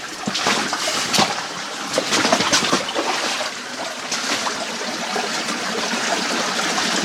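Water trickles and splashes steadily inside a flooded mine cave at a gold mining site near Keno City, a close, continuous wash of running water with no voices.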